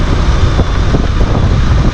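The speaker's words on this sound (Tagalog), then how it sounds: "malakas talaga yung hangin" Strong, steady mountain wind at La Trinidad, Benguet, roaring across the microphone, a loud broadband rush with low rumbling buffets throughout.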